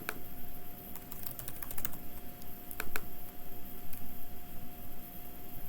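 Typing on a computer keyboard, a quick irregular run of light clicking keystrokes, close and fairly quiet over a faint steady hum, with bursts of rapid taps and short pauses between them.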